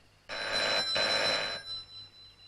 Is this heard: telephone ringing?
yes